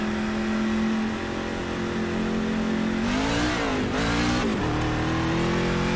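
A NASCAR Truck Series engine in the iRacing sim at Charlotte drones steadily at speed on an out lap, then its pitch dips and climbs again as the truck shifts and accelerates, loud and continuous with no talking.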